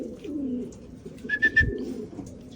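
Pigeons during free flight recall training, soft cooing near the mic with a short high whistle-like note in the middle, over low background hum.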